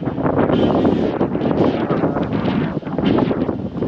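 Strong, gusty seashore wind at Kanyakumari buffets the microphone in loud, continuous roaring surges, with no one speaking.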